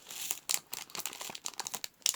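A package is torn open by hand, giving a quick run of crinkling, crackling rips and rustles in uneven bursts, close and moderately quiet, with no talking.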